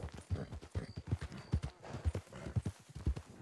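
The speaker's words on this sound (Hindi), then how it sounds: "भाई हरामी घोड़ा पहले उल्टा मुड़ा फिर मुझे पानी में फेंका" Horse hooves clip-clopping in Red Dead Redemption roleplay, a steady rhythmic run of close, loud hoof strikes, with a faint voice briefly heard underneath.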